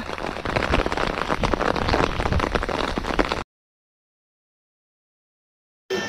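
Steady rain falls over a canal during cast-net fishing, a dense, even hiss for about three seconds that cuts off abruptly and briefly returns at the very end.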